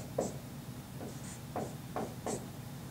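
Marker or chalk strokes on a board during a math lesson on factoring trinomials, a handful of short scratchy strokes in an irregular rhythm, quiet and close with no talk.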